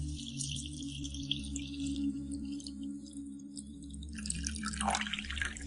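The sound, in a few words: forest tea being poured into cups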